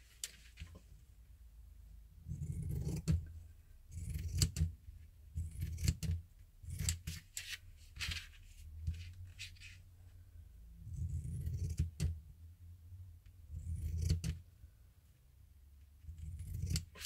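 Scissors snip around the edge of a sheet of paper in close, quiet bursts of short crisp cuts. Brief pauses separate the bursts, and nobody speaks.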